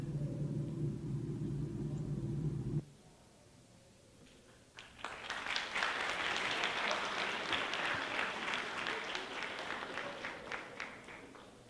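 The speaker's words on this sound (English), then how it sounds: "I'll pass on your applause to Nick." Audience applause from a youth forum crowd rises after a few seconds of low rumble, a dense spread of clapping that carries steadily to the end.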